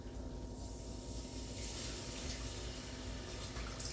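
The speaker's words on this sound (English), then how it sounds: "We're gonna add a little milk with this" Milk poured into a hot pan while making seafood mac and cheese with shrimp and crab gives a steady close liquid pour that runs without a break.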